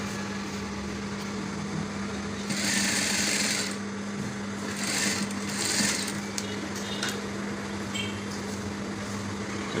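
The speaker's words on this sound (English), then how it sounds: "let's stitch on top now so that you see" Domestic sewing machine stitching along a waistcoat lining in short bursts, a fast buzzing whir starting and stopping with quiet pauses and a steady low hum between runs.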